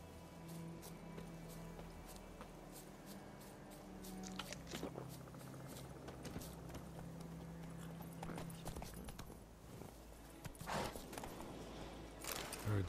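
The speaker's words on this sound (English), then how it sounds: "I have a horse coming." Horse hooves clip-clop in The Witcher 3 as a horse approaches, a steady, fairly quiet rhythm of hoofbeats over a low game ambience, with a few louder thuds near the end.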